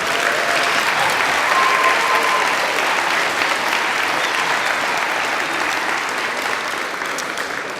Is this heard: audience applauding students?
yes